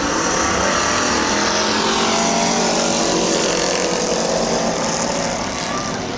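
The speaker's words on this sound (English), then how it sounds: "Okay, we're getting ready to go racing." Race cars roaring around the oval at Midvale Speedway, a steady, loud engine drone from a pack of cars running together, with the pitch sweeping slightly as they pass and no talk.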